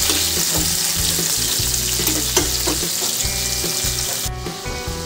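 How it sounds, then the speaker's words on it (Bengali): Oil sizzles and crackles steadily as shrimp fry lightly in a wok, with occasional stirring scrapes and no talking. "আমার চিংড়ি মাছটাকে হালকা করে ভাজা হয়ে গেছে"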